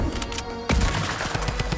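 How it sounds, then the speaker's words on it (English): A drum gun firing in Fortnite: a loud, fast stream of rapid shots that rattles on continuously, close and dominant with no talking. "I just got the drum gun, baby."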